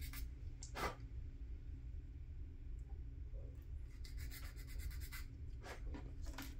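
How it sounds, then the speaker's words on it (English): Parts of an Italeri 1/72 scale Panzer IV Ausf. F2 plastic model kit are sanded by hand, producing faint, quiet bursts of rasping and scratching strokes spread irregularly across a hushed background. "And then do a little more sanding."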